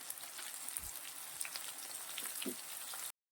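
Vermicelli khichdi with plenty of Maggi masala sautéed in a pan, giving a steady close sizzle with a few faint stirring scrapes.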